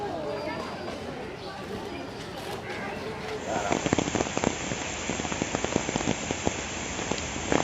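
Steady rain patters and splashes nearby at a zoo in Mirpur, Dhaka, with sharp drips growing louder and denser partway through.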